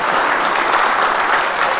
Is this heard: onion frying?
no